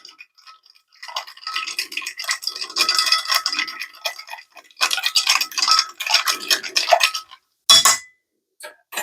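Metal bar spoon stirring a tequila old fashioned in a glass, rapid light clinking and scraping in steady bursts for several seconds, close and fairly loud, pausing briefly before a final sharp clink near the end.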